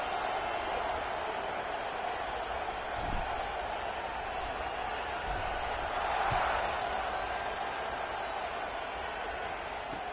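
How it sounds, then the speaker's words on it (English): Stadium crowd at an American football game buzzing after a score, a dense, steady wash of many voices and distant cheering with a few faint claps, heard from a distance. "this crowd is buzzing after that last score"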